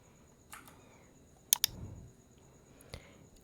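A computer mouse clicks twice in quick succession while working in a Wix website editor, crisp and close, with a few softer taps before and after and no voices.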